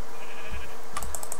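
A sheep in the video game Minecraft gives a short bleat amid faint keyboard clicking, heard up close with no speech.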